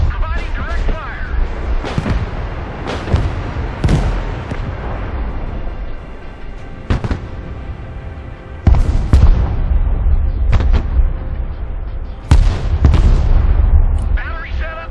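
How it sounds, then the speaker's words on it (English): Mobile artillery firing in the video game Broken Arrow, a run of loud sharp booms spaced a second or two apart, some clustered, each with a rumbling low tail, amid battle noise and occasional radio voices. "Mobile artillery reporting in. Artillery ready to fire, sir."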